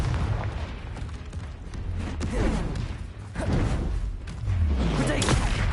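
The Confringo spell cast in the Hogwarts Legacy video game bursts out as loud whooshing blasts and booming impacts, layered with crackling crashes in a dense, close game soundscape.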